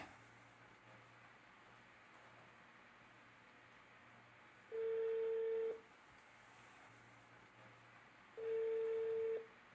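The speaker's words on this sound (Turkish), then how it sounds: "Telefoningizni ko'tarsangiz-chi?" A telephone ringing in a quiet room in an Uzbek TV drama, two steady electronic ring bursts of about a second each, spaced several seconds apart over a low background hum, with no talking.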